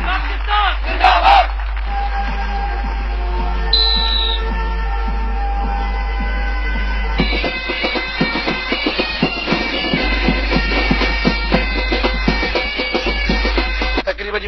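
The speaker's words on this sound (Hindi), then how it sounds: "भरपूर तालियां बजाकर" A crowd at a cadet college parents' day ceremony claps and cheers over a steady low electrical hum, the noise thickening into dense, choppy applause in the second half.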